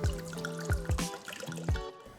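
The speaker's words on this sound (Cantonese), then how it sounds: "加水去到 MP5 飯煲裡面" Water poured into an MP5 electric cooking pot for a sweet potato dessert soup, heard as a few short splashy bursts and drips, close and fairly soft.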